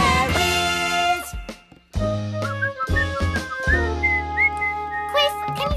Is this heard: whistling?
yes